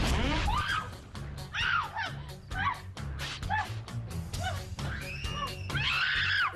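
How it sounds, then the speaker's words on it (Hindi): A woman on the Wipeout India game show screams loudly and repeatedly, with rising and falling shrieks near and continuous over a busy, noisy background. "इतना चीख रही हो, बॉल भी कांपने लग गया।"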